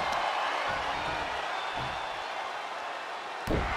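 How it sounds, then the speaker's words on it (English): Arena crowd at a wrestling event in Columbus roaring and cheering in a broad, steady wash, with a few impacts and a commentator's voice over it. "listen to the appreciation this Columbus crowd is giving these superstars"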